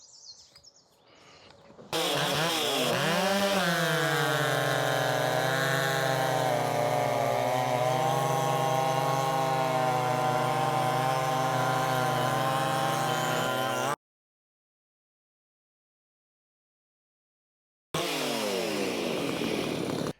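A Stihl MS chainsaw fitted with an aftermarket big bore cylinder starts up and holds a steady, loud high rev for about twelve seconds, cuts out to silence, then roars back to full throttle at the end.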